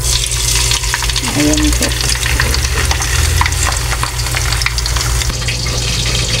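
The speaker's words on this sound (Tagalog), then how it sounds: "So habang piniprito ko po yung natitirang isa" Pieces of bangus (milkfish) steak frying in a pan, a loud steady sizzle and crackle close up with occasional stirring clatter, and a brief spoken word over it.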